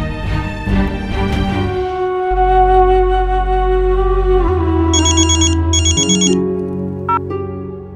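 A phone ringtone plays loud and alone, a melodic electronic tune with sustained tones and brief bright chiming bursts, ringing during a call in an Indian TV drama.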